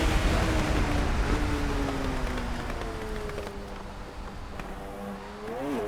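A racing car's engine drones loudly and close in a driving video game, its pitch gliding through gear changes and easing off before climbing again, with a tyre-squeal edge and rushing road noise throughout.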